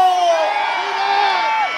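A rodeo crowd at a riders' tournament in Perris, California roars and cheers in a dense, steady wash for under two seconds, with a loud sustained voice shouting over it.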